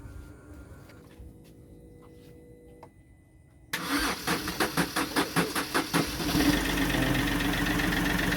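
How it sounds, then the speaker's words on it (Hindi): A Chevrolet Beat with a newly installed battery starts: quiet ticks and a faint whine, then the starter cranks in a rapid series of loud pulses before the engine catches into a steady, rough idle. "फाइनली गाइस कार का स्टार्ट भी उठ गया है"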